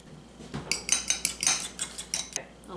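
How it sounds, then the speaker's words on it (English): Eggs are whisked lightly in bowls, a quick run of about a dozen bright metallic taps of utensil against the bowl, close and fairly even in rhythm, with no voices. "I'm going to put my eggs in 2 separate bowls. Just whisk them lightly."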